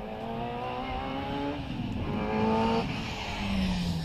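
Healey Sprite race car climbing the Prescott hillclimb in a modified 1400 class, engine revving loud and steady with rising pitch through several gear changes, no voices.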